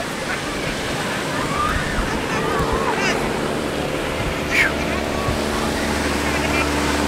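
Ocean surf at a beach in Ocean City, New Jersey, a continuous wash of breaking waves with wind buffeting the microphone and a low motor hum beneath, while people chat faintly nearby.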